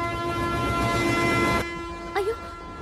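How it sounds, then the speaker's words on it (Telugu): A train in a film scene gives a loud, sustained horn blast that cuts off. A short rising tone follows, with a steady low rumble underneath. "అయ్యో, ట్రైన్ స్టార్ట్ అయింది."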